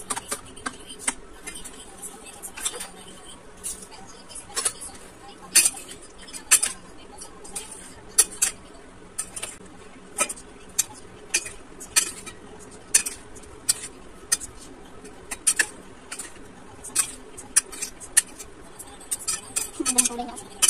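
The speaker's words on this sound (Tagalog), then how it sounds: "Pag haluhaluin na natin yung ating ingredients." Metal utensils stir and toss shredded chicken leg and jicama in a bowl for a chicken salad, giving a steady run of quick clinks, scrapes and taps at close range, with soft voices underneath.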